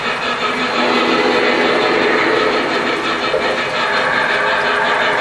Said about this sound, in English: So the train will continue to just drive itself.